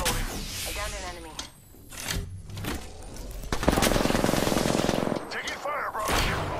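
Bursts of automatic gunfire from the video game Apex Legends on PS4, sharp rapid volleys that build into a sustained dense stretch of shots near the middle, with a voice speaking over parts of the clip.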